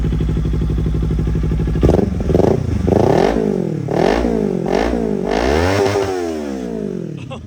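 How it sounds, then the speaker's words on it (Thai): A 2018 Kawasaki Ninja 400 motorcycle engine idles steadily, then is blipped repeatedly in quick, sharp revs that rise and fall, loud and close, before dropping back to idle. "มาเบิ้ลฟังเสียงเครื่องยนต์กันนะ"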